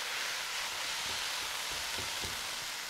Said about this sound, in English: So we're gonna just flip this around, give it a little heat, give it a little saute